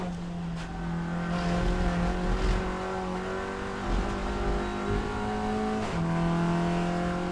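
Race car engines run steadily in the pits during qualifying for the 2021 Hankook 12H Mugello endurance race, a sustained droning hum with shifting tones and brief revs, close and fairly loud throughout.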